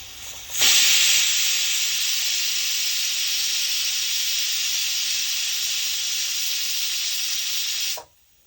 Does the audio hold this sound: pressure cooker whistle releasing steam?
yes